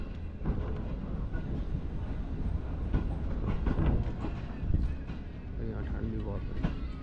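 Green Line Express train running past Bahawalpur station, a steady rumble of rail cars with intermittent clatter, heard from on board while someone talks over it.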